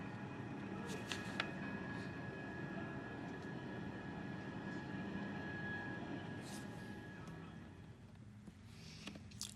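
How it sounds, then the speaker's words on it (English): The propeller aircraft 909 lands with its propellers in reverse thrust, giving a steady, fairly distant roar and rumble throughout with faint higher whines on top. "you can hear the reverse thrust of the propellers"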